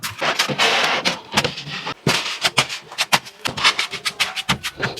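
Thermocol piece being pressed into a fish box for a homemade incubator, a run of close squeaky rubbing and scraping bursts in an irregular rhythm with short gaps.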